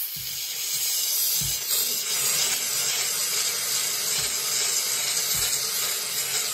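A Bissell Steam Shot hard surface steam cleaner sprays a continuous hiss of steam while a round detail brush scrubs, with soft rhythmic rubbing thumps beneath the steady close hiss.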